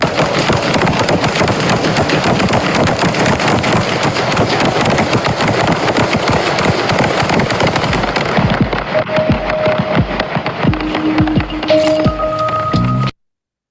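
Rapid bursts of gunfire crackle continuously for several seconds, dense and loud like automatic weapons or fireworks, then thin out into scattered shots over a low droning tone before cutting off.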